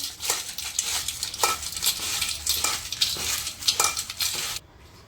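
Potato chips being tossed and stirred with red chili powder, chaat masala and salt in a bowl, producing crisp rustling crunches and scraping in a steady rhythm of repeated strokes, close up, ending abruptly.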